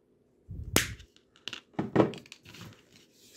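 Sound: snipping off excess wire while making a foam lure

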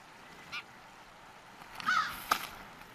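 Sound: crows cawing

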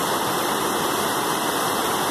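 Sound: glacial runoff stream flowing

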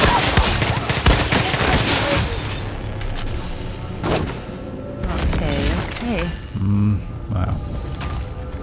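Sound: gunfire from weapons in Far Cry 6 video game

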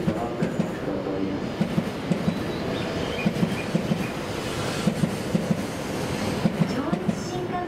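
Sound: JR Joetsu Shinkansen E7 series train arriving at Tokyo Station

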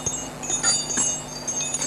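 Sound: sleigh bells (janczary) ringing

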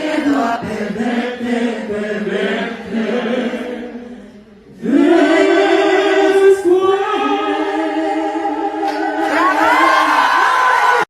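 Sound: audience applauding and cheering Dimash at Barcelona event

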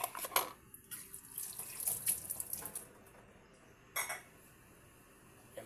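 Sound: dishes clattering while tidying the kitchen sink

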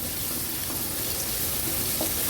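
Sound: onion sautéing in oil

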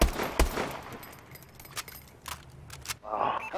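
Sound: gunshots in a video game

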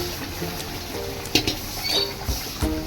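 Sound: boiled mutton and potato stirred into fried spice paste

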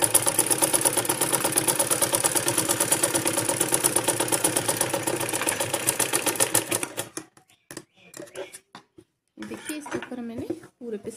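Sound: sewing machine stitching a layer of a kurti

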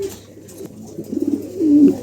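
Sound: pigeons cooing

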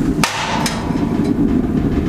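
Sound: waste oil stove burning with rocket-stove roar after closing

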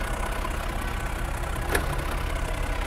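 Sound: Mercedes-Benz E63 AMG engine idling at standstill

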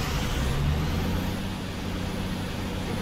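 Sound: truck driving in a video game

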